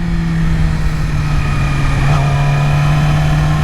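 A 2020 Yamaha R6 motorcycle revving very high past 9,000 RPM on twisty mountain roads, a loud sustained engine whine with steady pitch and a slight upward shift midway, heard from the rider's position with wind noise.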